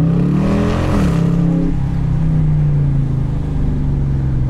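The engine of a 2018 Dodge Challenger T/A with an automatic transmission revs hard to high RPM, climbing in pitch, then settling back into a loud, throaty, steady drone heard from close by.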